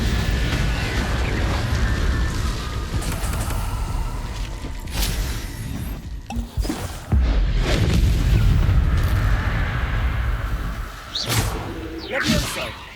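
Incendio fire spell in Hogwarts Legacy combat: loud booming, whooshing fire bursts that swell, cut out briefly midway and flare again, with several sharp bangs near the end and no speech.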